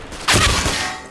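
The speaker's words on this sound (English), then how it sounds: "I'm throwing flashbang" A flashbang grenade bursts in the first-person shooter CS:GO, one sudden loud bright pop followed by a sustained ringing hiss that slowly fades over the game's background ambience.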